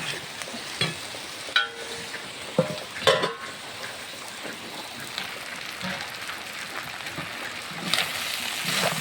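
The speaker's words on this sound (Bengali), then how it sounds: "এখন আমি নাড়াচাড়া করে সুন্দর করে কষিয়ে দিব" Goat tripe frying with turmeric and salt in a pan, a soft continuous sizzle broken by a few sharper scraping stirs, quiet and close, with no talking.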